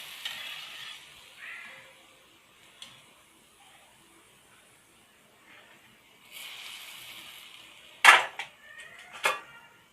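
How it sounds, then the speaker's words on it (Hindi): Fried gulab jamun are lifted from hot ghee and dropped into sugar syrup: soft sizzling in patches, then a couple of sharp clattering knocks near the end. "इसमें से घी में से निकाल लेंगे हम और शीरे में डालते जाएंगे।"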